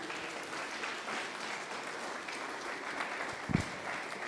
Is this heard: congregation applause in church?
yes